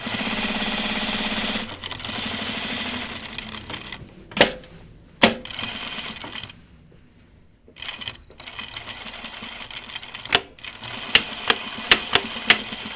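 A sewing machine stitching the fly of pajama bottoms, running in steady mechanical bursts with pauses between, close and clear, followed by short clicking stitches near the end.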